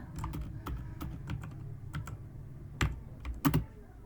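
Irregular, separate keystrokes on a computer keyboard tap close by at an unhurried pace, with a few louder, sharper presses near the end over a low background hum.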